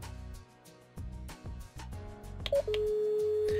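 A 2N IP Solo intercom dialing several destinations in parallel: a quick run of clipped keypad tones and beeps, then a steady electronic tone holding to the end, close and clear.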